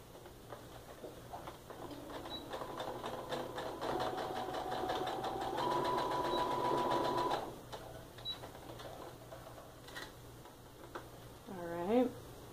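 A home sewing machine stitches a quarter-inch seam on quilting fabric, a steady fast mechanical whir lasting several seconds before stopping, followed by faint handling clicks.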